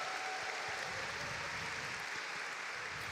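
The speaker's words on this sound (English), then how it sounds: "ladies and gentlemen in the crowd, make some noise for your Masters Division final." Crowd applause at the Masters Division final of the 2025 Pokémon Europe International Championships, a broad, steady wash of clapping from a large audience heard at some distance, with faint cheers mixed in.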